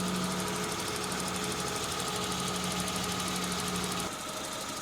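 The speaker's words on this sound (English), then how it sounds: "The idle settled down to 800 RPM." Suzuki Samurai engine idling at about 800 RPM after warming to operating temperature: a steady, close, knocking mechanical rumble that holds evenly, then softens slightly near the end, with no talking.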